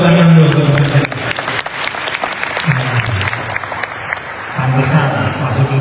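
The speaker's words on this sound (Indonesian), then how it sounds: "Kita tepuk tangan dulu." Loud applause from a crowd at a public lecture at Institut Teknologi Surabaya, dense steady clapping with a voice or two rising briefly above it.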